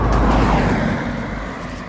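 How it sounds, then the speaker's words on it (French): A single car passes behind a walker on a French countryside road near a motor racing circuit, a broadband rush that is loudest at the start and slowly fades as the vehicle moves away. "sauf la voiture qu'on entend derrière moi."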